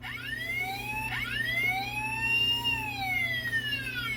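A Transformers Dark of the Moon Leader-class Sentinel Prime toy, button pressed in vehicle mode, sounds an electronic emergency siren: rising and falling wails that sweep up and down repeatedly over a steady low hum, loud and close.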